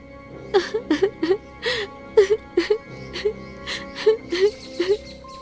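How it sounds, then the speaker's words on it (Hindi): A woman sobbing and whimpering in repeated short, wavering bursts with gasping breaths between them, close and fairly loud throughout. "तभी किसी स्त्री के रोने की आवाज सुनाई दी।"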